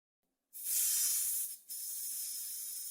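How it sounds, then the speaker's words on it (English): Compressed air sprays dust out of a cryptocurrency mining rig in loud, steady hissing blasts: one long burst, a brief break, then a second continuous spray, with no talking. "Use compressed air to clear out any dust buildup."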